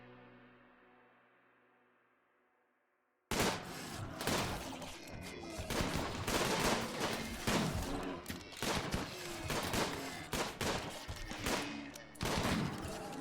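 Rapid, loud bursts of gunfire from RimWorld, the colony-building video game, erupt after a quiet low intro, with dense repeated shots and crashing impacts continuing almost without pause.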